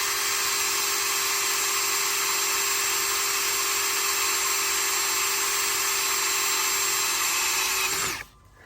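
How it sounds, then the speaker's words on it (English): A power drill boring a hole through thick plastic bins, a loud steady whine held for about eight seconds before cutting off abruptly. "I'll just drill a hole in these."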